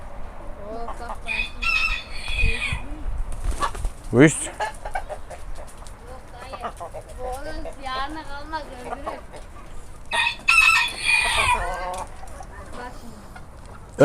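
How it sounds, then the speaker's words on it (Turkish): Porcelain Barbu d'Uccle roosters crow several times close by amid clucking chickens, with people talking now and then between the calls. "Evet arkadaşlar yedek horozlarımızı dışarı çıkardık."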